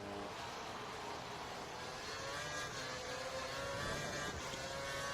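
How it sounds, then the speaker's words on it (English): A Formula One car engine at full revs in the racing video game F1 2013, held as a steady, loud, high-pitched whine with rising harmonic sweeps across the whole stretch. "He's running full revs, maximum power."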